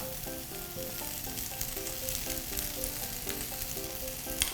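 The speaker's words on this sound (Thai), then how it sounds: "เดี๋ยวเราจะค่อย ๆ กลับด้านนะคะ ดูให้มันมีออรอยไหม้สักนิดนึงนะคะ" Vegetarian barbecue skewers brushed with sesame oil sizzle steadily on a grill, a close, continuous crackling fry with a sharp pop near the end.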